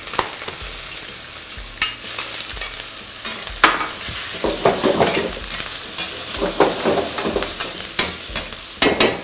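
Crab meat stir-fried in a pan with fried garlic and egg whites for a Thai crab gravy over broccoli and carrot: steady loud sizzling broken by repeated sharp scraping and clanking strokes of a spatula against the pan, with no talking.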